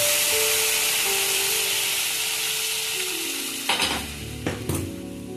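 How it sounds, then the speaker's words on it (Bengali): Heated water poured into a pan of dalia pulao makes a loud, steady rushing hiss that fades after a few seconds, followed by a few sharp metallic clinks of utensil against pan nearby. "দেখুন, আমি জলটা গরম করেছিলাম, এই জলটা আমি ঢেলে দিলাম।"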